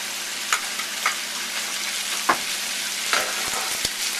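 Cranberries and softened apples sizzle steadily in a hot pan, a constant close frying hiss with occasional stirring scrapes and pops on top.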